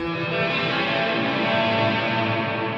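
Electric guitar strings ring out through reverb with zero pre-delay, so the wash blooms instantly into a dense, sustained shimmer that holds evenly for the whole stretch, loud and without voices.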